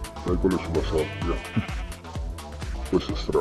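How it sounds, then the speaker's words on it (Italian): Sheep standing on sand in the Minecraft video game let out several short, nasal bleats in a loose series, heard under people talking in Italian. "Pecore sulla sabbia."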